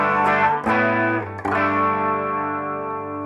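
Clean electric guitar chords through blended stereo amps, a Matchless DC30 and a JC120, strummed three times, spread wide with a shimmering chorus effect, each chord ringing out and slowly decaying.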